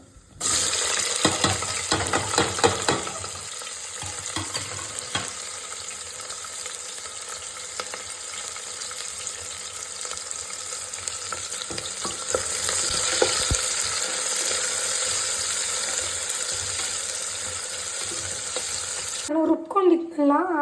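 Onions fry in a pan with a dense, continuous sizzle that runs nearly the whole length, along with faint clinks and stirring. A sharp cut near the end brings in a brief different noise.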